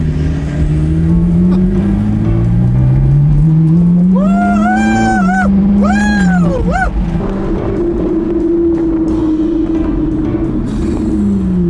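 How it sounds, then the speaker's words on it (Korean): A Ferrari car drives with a loud, steady engine drone that rises and falls in pitch, and a dog barks several times in the middle. "오랜만에 페라리로 드라이브 하니까 진짜 좋다."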